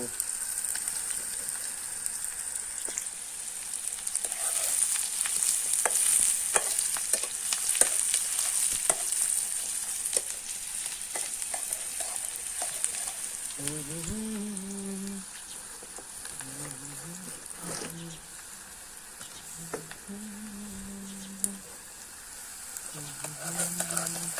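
Onions fry in a pan for a tandalja bhaji, a continuous crackling sizzle with occasional stirring scrapes, loudest early and easing later, with brief faint voices in the background.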